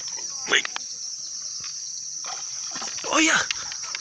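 A trairão fish released back into a shallow pool of water, two brief splashes under a constant high-pitched chorus of crickets and insects, with a person speaking between the splashes.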